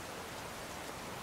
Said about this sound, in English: Oh, it's still raining.